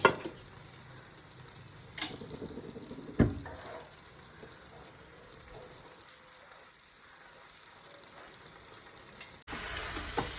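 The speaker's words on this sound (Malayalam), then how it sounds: "സവാള നല്ലതുപോലെ വഴണ്ട് വന്നിട്ടുണ്ട്" Sliced onions sautéing in a pan for chicken biryani give a continuous soft sizzle and hiss, broken early by a few clacks of a stirring spoon against the pan, close and fairly quiet throughout.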